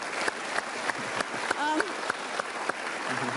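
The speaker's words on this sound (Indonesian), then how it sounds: "Kita tepuk tangan untuk Bang Zumi Zola." Studio audience applause for a guest on an Indonesian television talk show, a short burst of clapping heard with a voice speaking over it.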